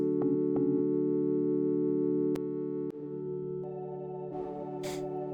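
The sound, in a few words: organ preset pad on Arturia MicroFreak synth through effects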